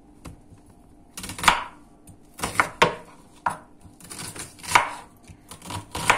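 A knife chops a generous amount of onion on a board for khinkali: close, crisp clusters of quick chops come in bursts separated by short pauses, with no talking.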